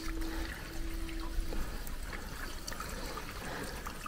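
Fuel trickles steadily from a container into the tank of an adventure motorbike in Spain, a continuous close, splashy pour with a brief faint tone near the start.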